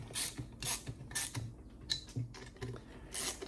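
A hand ratchet snugging bolts on a 1972 VW Super Beetle engine, a quiet close series of short clicking strokes in an uneven rhythm, each burst of clicks followed by a soft creak.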